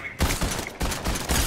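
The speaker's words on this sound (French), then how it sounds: "Ça tire derrière toi, il y a un mec." Gunfire erupts from behind in a Fortnite match, a dense, loud burst of rapid shots rolling continuously, close and harsh, with no voices over it.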